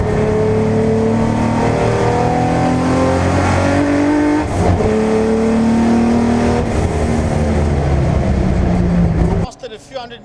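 Race cars at a circuit accelerate into the first corner as a loud pack, engines rising and overlapping in pitch, then cutting off abruptly near the end, while a commentator talks over them.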